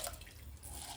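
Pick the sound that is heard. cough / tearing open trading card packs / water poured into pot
water poured into pot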